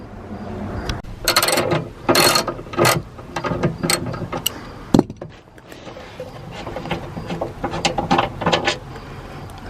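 An 11 mm socket on a ratchet clicks through rapid bursts as seat bolts come out inside a Sprinter van. The close, mechanical pawl ticking comes in several runs with brief pauses between them.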